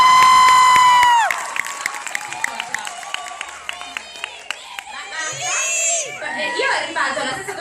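A loud whistle-like squeal gives way to a crowd of young fans at a Rome film promotion event for Love Rosie. Scattered claps and high excited cheers and shrieks come through amid voices, with the shouting growing toward the end.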